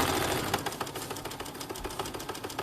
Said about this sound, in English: And then I'm going to sew all the way to my other end.